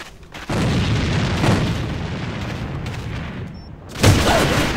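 A grenade goes off in the online shooter AVA, a loud, heavy blast whose rumbling roar fills several seconds, then cuts out briefly before a second sharp burst.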